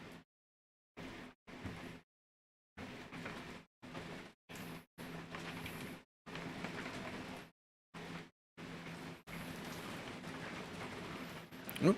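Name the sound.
heavy rain falling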